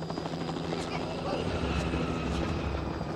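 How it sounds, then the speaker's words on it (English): A helicopter in The Last of Us Part 1 drones steadily with a throbbing rotor hum and engine whine, loud and continuous throughout. "There's a helicopter."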